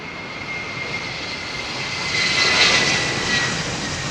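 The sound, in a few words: jet aircraft taking off at London Heathrow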